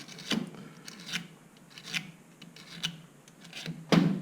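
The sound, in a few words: trimming gasket material by scraping with steel blade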